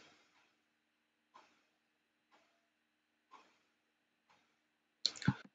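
Faint, sparse mouse button clicks in software, about five soft taps spaced roughly a second apart, followed by a louder, busier click burst at the end.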